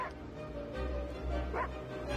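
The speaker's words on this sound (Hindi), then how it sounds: "माँ ये क्यों भौंक रहा है?" A dog yips and whimpers in short bursts close by, over a steady low rumble of a nearby bus or vehicle.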